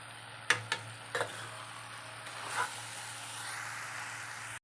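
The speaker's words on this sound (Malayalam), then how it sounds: "തേങ്ങ ചതച്ച് കൊണ്ടുവന്നത് ചേർത്ത് കൊടുക്കാം നന്നായിട്ടൊന്ന് മിക്സ് ചെയ്ത് കൊടുക്കാം" Crushed coconut being mixed into avial in a pan gives a few soft scrapes and utensil clicks early on, then a quieter stretch over a steady low hum, with no talking.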